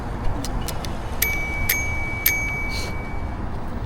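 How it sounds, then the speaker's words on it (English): A bicycle bell rung outdoors during a cloudy, drizzly ride on a river trail, with several sharp dings and one longer ringing tone over steady road and wind noise. "hopefully my bell will work."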